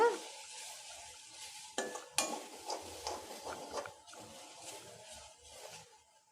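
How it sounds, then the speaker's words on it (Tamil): Poriyal being stirred in coconut oil on a low flame, a quiet sizzle broken by clinks and scrapes of a spoon against the pan, close and fairly soft, with no talking. "நல்லா சிம்மில் வச்சு கலந்து விடுங்க"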